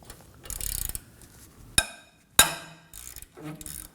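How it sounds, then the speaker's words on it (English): Ratchet with a 19mm socket working a bolt loose on the rear caliper bracket of a 2017-2024 Nissan Armada, heard as short clicking bursts and two sharp metallic knocks, close and fairly loud. "Using a 19mm socket, we're gonna go ahead and remove this bolt."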